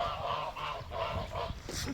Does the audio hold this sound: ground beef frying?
no